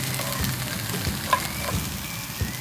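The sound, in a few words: shallots frying in a pan for egg fried rice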